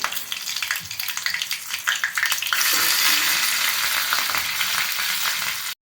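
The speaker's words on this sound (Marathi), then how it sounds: "तेल गरम झालं की आपण एक पाव चमचाभर मोहरी घालणार आहोत मिरचीचे तुकडे जे आहेत ते" Chilli pieces and mustard seeds fry in hot oil, a close, dense crackling sizzle that swells louder partway through and runs steadily until cutting off abruptly, with no voices.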